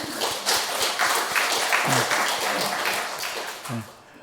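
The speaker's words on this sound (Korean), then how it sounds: "한번 박수로 한번 힘차게 한번 쳐줍시다" Church congregation clapping together after the pastor's call, a moderately loud sustained round of applause with a few voices speaking over it.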